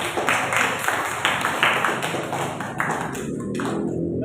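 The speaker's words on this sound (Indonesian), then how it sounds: "Tepuk tangan." A group claps together in a classroom during a teaching session, a run of sharp, fairly loud claps repeating in a loose rhythm before fading out near the end, with no one speaking.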